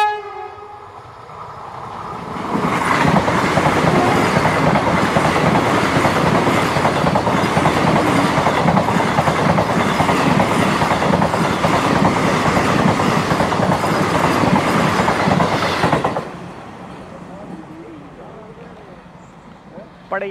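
The 22150 Pune–Ernakulam superfast express running on rails, a loud, sustained roar of wheels and carriages with rhythmic clatter that swells in, holds for over ten seconds, then drops away, with background voices.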